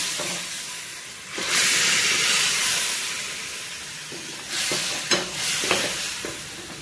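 A little water hits hot frying masala for Saoji mutton curry and bursts into a loud, hissing sizzle and steam. The sizzle swells, settles, then flares again as the pan is stirred, with a few soft clinks.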